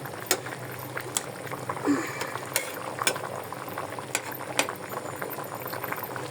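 A pot of fish curry bubbles at a soft, steady boil, low wet gurgling with scattered popping bursts and an occasional stir, fairly quiet and with no talking.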